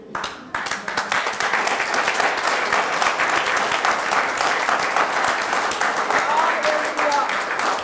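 Loud, sustained applause from a church congregation, dense clapping filling the room from start to finish after a brief quieter opening.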